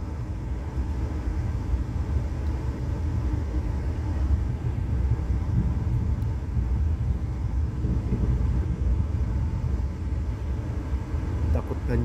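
Heard from inside an executive train, a steady loud rumble of wheels and carriage noise as a commuter train passes on the adjacent track, with a voice talking faintly under it.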